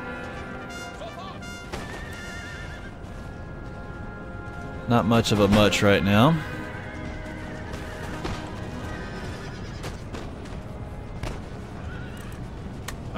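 Cavalry horses whinny loudly in the Empire: Total War battle for a second or two mid-clip, over steady game noise with clip-clop and distant thuds, while someone talks quietly throughout.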